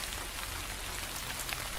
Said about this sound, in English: We sit side by side and watch the rain.